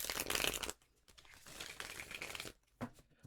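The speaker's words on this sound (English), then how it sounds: "Shuffle them up real good." A deck of tarot cards shuffled by hand gives close, crisp papery riffles: a dense burst, a softer stretch of rustling, then a short final flurry.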